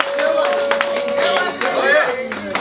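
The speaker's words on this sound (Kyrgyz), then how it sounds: "Кол чабабыз." Guests at a Kyrgyz family celebration clap their hands in a brief burst of applause, mixed with voices and music close by.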